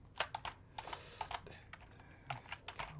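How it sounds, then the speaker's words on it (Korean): Someone presses the space bar and other keys on a computer keyboard, giving a handful of light, separate clicks at an irregular pace. The clicks are faint, close and quiet, with no speech. "마찬가지로 스페이스바 누르고"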